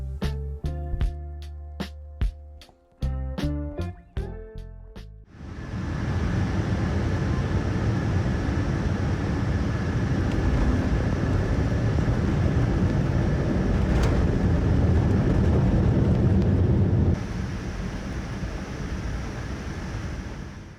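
Cabin of an EVA Air Boeing 787-10 airliner on landing approach: a soft tonal chime sequence opens, then a steady broadband roar of engines and airflow that drops slightly near the end.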